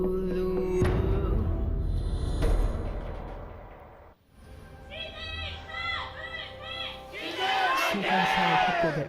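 A large esports arena crowd roars as an LCK Spring 2016 match between CJ and ROX Tigers gets underway. Busy cheering and shouting is joined by game sound effects, and a voice may be heard over the crowd noise.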